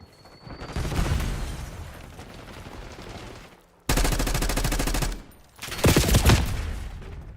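Automatic gunfire from a powerful gun in the video game Black Ops 6 comes in three loud bursts of rapid shots with short gaps between them, close and punchy.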